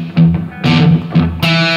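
Slow electric guitar riff, played note by note with a low open-string root and sustained picked notes in several separate phrases, heard alone.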